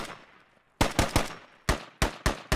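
Gunfire in the tactical shooter game Squad: after a quiet start, a close series of sharp shots, some in quick pairs, then evenly spaced single cracks, with no talk over them.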